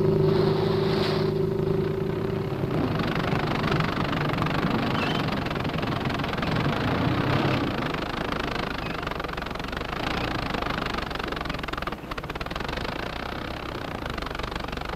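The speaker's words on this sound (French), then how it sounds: "met en branle une flottille mécanisée de près de 500 charrues, souffleuses, grattoirs et camions" A mechanized fleet of snow plows, snow blowers, scrapers and trucks works in Montreal, a steady low engine drone with vibrating rumble and knocking, continuous and moderately loud throughout.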